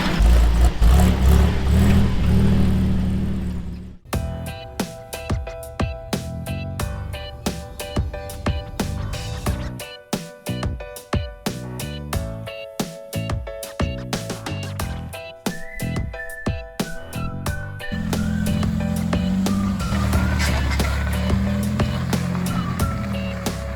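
Old Jeep CJ5 engine driven off-road in the hills, idling low before a string of sharp revs and throttle bursts that rise and fall, ending in a steadier drone.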